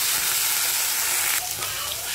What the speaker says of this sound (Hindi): सूखी मछली को हम अच्छी तरह से फ्राई कर लेंगे।